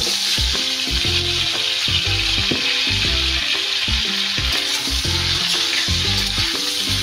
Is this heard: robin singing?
no